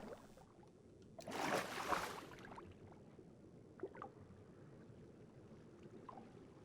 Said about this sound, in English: did they add water ambience?